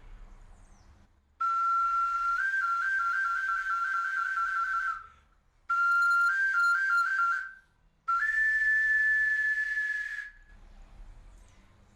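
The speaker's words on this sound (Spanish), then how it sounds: "los sonidos que surgen al soplar este silbato" Three sustained, piercing whistle tones from a small pre-Hispanic duct flute whistle, each a few seconds long with slight pitch steps, separated by short pauses.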